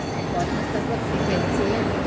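A train moving at Genting Highlands, Malaysia, makes a continuous broad rumble with a faint metallic wheel hiss, steady and moderately close, with voices murmuring in the background.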